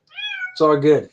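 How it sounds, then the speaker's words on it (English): Cats meowing: a drawn-out, rising meow followed at once by a louder, throatier second call, close and brief, with a voice speaking over it. "pardon the cats"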